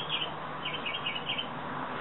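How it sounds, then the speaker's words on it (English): Birds chirping outdoors in a yard on a spring day, a few faint, high tweets scattered over a steady soft background hiss. "Listening to the birds."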